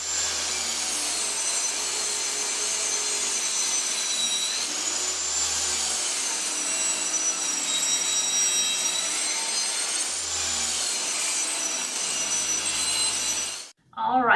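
A saw cuts a 2-inch strip from a 1x wood board in one long, steady, loud whine that holds for over ten seconds, then drops off abruptly near the end.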